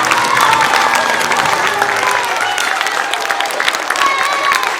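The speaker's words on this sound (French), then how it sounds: "on peut l'applaudir très très fort." Audience applause at a live stage show, a steady dense wash of clapping with some cheering, held fairly loud for the whole stretch with no voices on top.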